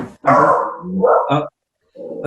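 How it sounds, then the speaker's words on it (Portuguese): A dog close by gives a few loud, drawn-out barks and growl-like yelps, then pauses and makes another shorter sound. Talk from a podcast recording may run beneath it. "tem um cachorro aí, solta ele."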